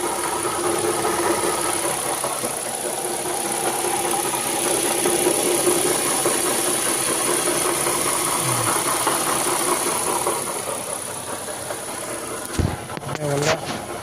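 A Ford Focus with a faulty automatic transmission rattles while driving, a steady mid-pitched mechanical drone with a rattling texture, running close and continuous before a sudden clunk near the end, with some talk in the background.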